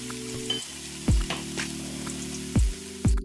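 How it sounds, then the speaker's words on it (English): Meat sizzles in a pan with onion and mushrooms, a steady soft frying hiss under a faint hum, punctuated by a few dull knocks from stirring. "So right now we're just gonna cook the meat with the onion and the mushrooms."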